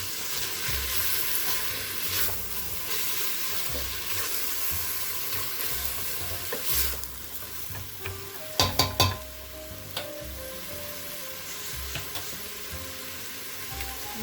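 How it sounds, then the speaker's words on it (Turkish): Oily tomatoes and eggplant fry and get stirred in a pan, giving a steady sizzle with soft scraping, then a cluster of sharp utensil clanks against the pan midway and a few lighter knocks after. "ve domatesimi atıyorum. Onu da biriktirip böyle bir döndürelim."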